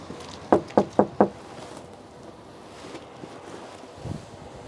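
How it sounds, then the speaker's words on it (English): Four quick, firm knocks on a neighbour's front door in a residential East York/Riverdale neighbourhood, followed by quiet outdoor air and faint wind. "We should go and knock at one of the doors"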